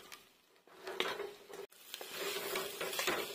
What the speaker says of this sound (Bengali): ঘিয়ের মধ্যে বেটারটা নেড়ে ছেড়ে আমি এইভাবে ভেজে নিতেছি।